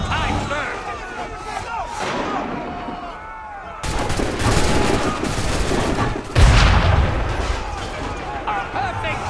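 Cannon fire in Assassin's Creed III amid a battle, loud booming blasts and dense crackling gunfire with crowd noise and shouting voices throughout, a heavy low impact standing out near the end.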